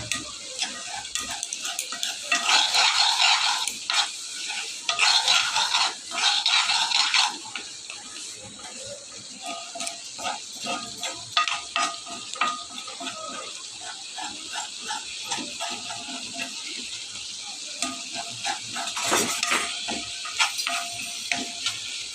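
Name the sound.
dried fish (shutki) frying and being stirred in a pan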